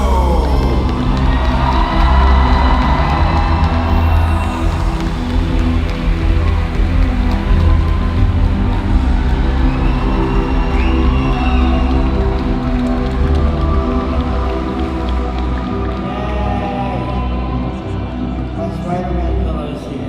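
A large convention crowd greets a guest at a 2019 fan Q&A with loud, sustained cheering, whoops and applause. The sound is a dense roar with sharp bursts, and talk underneath stays continuous throughout.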